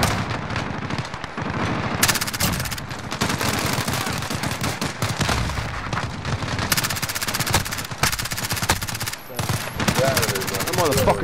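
Heavy automatic gunfire in a co-op shooter video game, loud rapid bursts and near-constant machine-gun rattle across the whole stretch, with a player's voice breaking in over the shooting.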